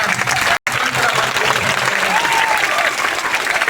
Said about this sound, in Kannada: ದಯವಿಟ್ಟು ಎಲ್ಲರೂ ಜೋರಾದ ಚಪ್ಪಾಳೆಯನ್ನ